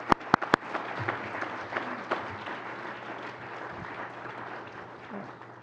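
An audience at a college graduation ceremony breaks into applause after a few sharp opening claps, a sustained crowd clapping at moderate distance that gradually thins and fades out.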